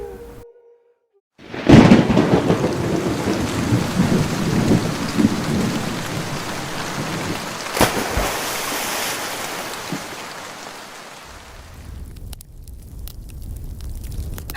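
Rain and thunder in a cartoon: after a short quiet start, a loud burst of thunder breaks into steady heavy rain, with another sharp crack midway, before the downpour fades toward the end.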